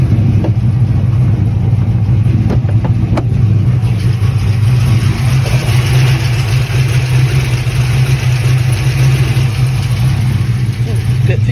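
A Pontiac GTO engine runs steadily with a continuous low rumble that holds loud and even throughout, with some background noise over it.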